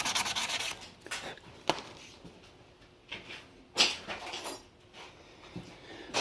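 Sandpaper rubbed by hand over a steel weld bead, 220 grit following 120: close, uneven scratchy strokes in irregular bursts, with soft knocks and brief pauses between passes.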